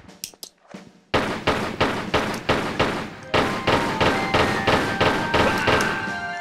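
Pistol fire in Tomb Raider 3, a rapid, regular string of sharp, loud shots in two bursts after a few scattered opening hits, close with no voices.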